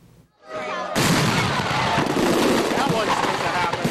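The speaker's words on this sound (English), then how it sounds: "malfunctioning fireworks at an annual 4th of July show near Los Angeles" Fireworks exploding at a 4th of July show near Los Angeles, where malfunctioning fireworks injured people; a sudden loud burst turns into a dense, continuous crackling barrage of explosions after a brief quiet start.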